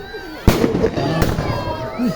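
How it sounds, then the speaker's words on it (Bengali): Fireworks burst in the sky at a Faridpur Foundation picnic, two sharp pops a moment apart amid crowd noise and people talking. "ফরিদপুর ফাউন্ডেশন আতশবাজি ফুটানো হচ্ছে সেই দূর আকাশে"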